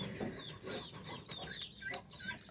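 A hen clucks on a house rooftop where rabbits are also kept, giving repeated close, moderately loud clucks with no talking over them.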